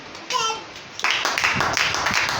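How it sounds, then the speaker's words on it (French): Church congregation breaking into applause during a sermon, a brief voice first, then a burst of bright, scattered clapping from many hands that continues to the end. "acclamez le Seigneur pour les femmes"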